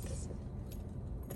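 Keys jangle in a handbag during a vlog outing, a soft metallic rattle under background chatter and a busy, noisy ambience.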